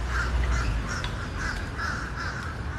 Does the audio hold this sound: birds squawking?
yes